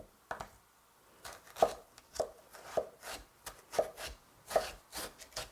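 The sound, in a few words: knife chopping kohlrabi into 1 cm cubes for kkakdugi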